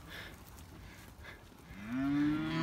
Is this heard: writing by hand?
no